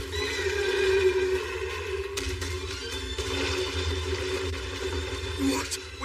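A horse neighs shrilly in a dubbed fantasy anime, with the sound sustained over busy background action and a tonal score.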